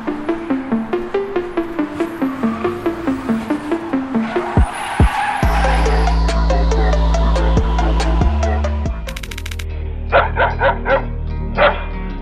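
Caught on a CCTV camera, a dog barks rapidly and repeatedly, then screeching taxi tires and a roaring engine take over, followed by a few more sharp barks near the end.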